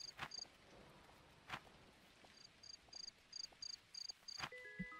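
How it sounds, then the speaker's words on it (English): Cricket chirping in the Dinkum video game at night during a storm, a faint repeated high chirp in short evenly spaced bursts over steady rain-like hiss, with a few soft footstep thumps. "That's another cricket."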